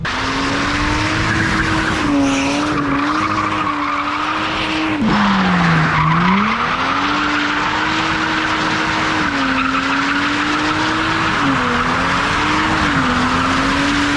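A Lexus IS200 drifts with a continuous loud tire squeal over a constant engine roar. The squeal's pitch wavers and dips as the car slides, and the noise stays close and dominant throughout.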